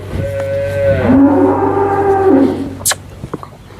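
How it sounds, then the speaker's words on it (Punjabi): A single long, loud cow moo rises and holds for about two seconds at close range on a farm, followed by a few brief knocks and rustles. "ਇੱਕ ਗਾਂ ਹੋਰ ਖੜੀ ਹੈ"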